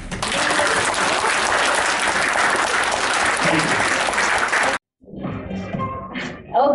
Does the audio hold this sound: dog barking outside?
no